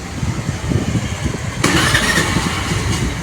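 A Honda Activa scooter engine starts up. A steady low background gives way partway through to a loud, broadband rush of engine noise that holds steady to the end.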